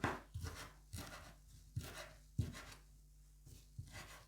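A knife chops parsley steadily on a board, about eight distinct thuds spaced roughly half a second apart, close and fairly quiet.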